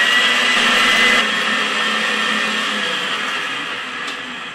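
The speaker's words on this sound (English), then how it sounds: "let this blend for about 30 seconds on a medium speed" An electric blender runs at medium speed through a poke cake mixture, a loud, steady motor whir held close and continuous throughout, easing slightly toward the end.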